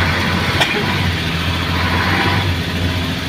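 An Isuzu Giga truck's 6WA1 diesel engine idles steadily for a few seconds, a low, constant rumble close by with a brief click near the start and no talk over it.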